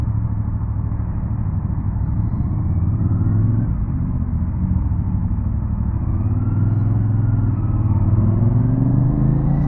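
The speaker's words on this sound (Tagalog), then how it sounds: "Grabe traffic ngayon." Dense traffic rumble on the NLEX Skyway from a motorcycle in the flow, steady engine drone and road roar that swells slightly as vehicles accelerate nearby, loud and unbroken.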